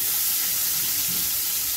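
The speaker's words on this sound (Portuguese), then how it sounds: "Vamos fritar essa cebola" Onion fries in a pan without added oil, a dense, steady sizzling hiss that runs continuously without pause.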